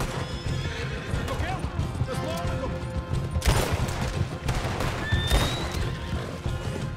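Horses whinny and neigh repeatedly amid hoof clatter and roaring flames in the Red Dead video game, with shrill calls rising over a dense, chaotic fire-and-commotion backdrop, loud and close.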